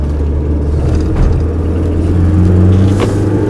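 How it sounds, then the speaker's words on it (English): A 30-year-old car accelerating through second, third and fourth gears, a loud close engine rumble and whir that holds steady with slight rises as it pulls. "I'm just sliding into 2nd gear, accelerate out, 3rd gear, 4th"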